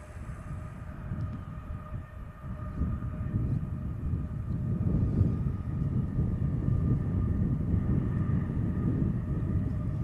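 A brand new Ryanair Boeing 737 Max 8-200 beginning its takeoff roll at Manchester Airport, a broad low engine rumble heard from a distance that builds steadily and holds, with no talk.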